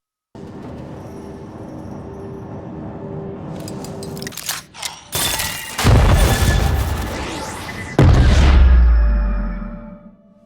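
A bomb exploding in the Arcane animated series, a tense buildup of rising tones and sharp hits, then loud deep booming blasts with a rumbling low-end tail.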